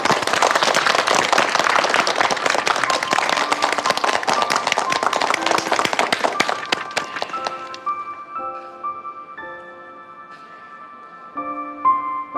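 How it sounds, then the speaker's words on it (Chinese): A crowd claps for a man at an event honoring his work on a Huntington's disease treatment. Dense, loud applause runs for about seven seconds, then thins out and fades under soft music. "让我们给他鼓掌。"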